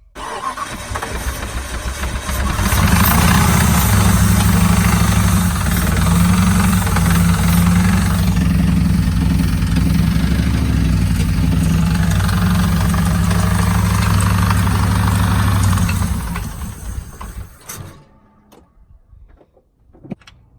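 A Jeep WJ with a 4.7 V8 engine cranks and settles into a loud, rough, uneven idle with a stumbling misfire, running steadily for about fifteen seconds before shutting down and falling quiet.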